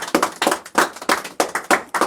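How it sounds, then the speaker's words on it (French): A church congregation claps in a steady, rhythmic beat, with about eight sharp, evenly spaced claps close by and no talking over them. "On applaudit Jésus ce soir."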